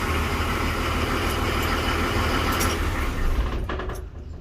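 Nissan Patrol SD33 diesel engine idling after a cold start, a loud, steady close-up clatter and low rumble that fades toward the end as it shuts off.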